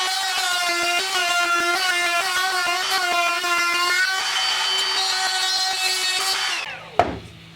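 A table saw cutting a plywood board held between a straight edge and the fence makes a steady, loud, whining drone that holds for several seconds, then drops away and ends with a single solid knock.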